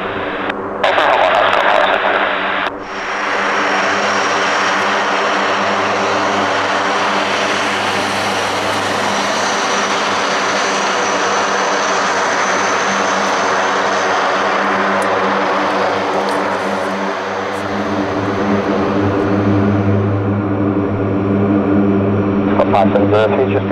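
A Lockheed C-130J Hercules turboprop at RAF Northolt runs its engines loudly and steadily with a strong propeller drone, the pitch and intensity swelling and easing over about twenty seconds with a brief dip early on.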